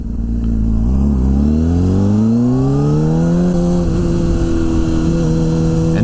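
A Honda CBR600RR sport bike revs hard while being ridden on winding roads, its engine note climbing steadily through the gear, loud and close over wind noise.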